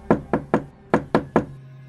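Six sharp knocks on a wooden door in two groups of three, close and clear, each rap ringing briefly with nothing else heard.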